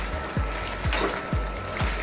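Pork and beans stir-fried with pechay in a pan, a steady close sizzle with a few regular scraping stirs of the spatula.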